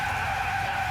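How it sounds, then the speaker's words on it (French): A vehicle brakes hard in a skid, giving a loud, steady tire screech that holds for about a second with no voices. "Mais on freine, Bob, on freine!"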